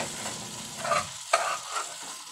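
Food frying in a pan is stirred with a few scraping strokes and one sharp clack of utensil on metal, over a soft sizzle that fades as the stirring settles.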